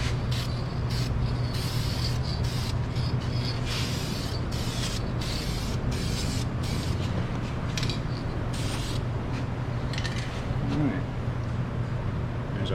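Aerosol spray paint hissing in repeated short bursts as a second coat goes onto brake calipers, each spray a few seconds long over a steady low hum.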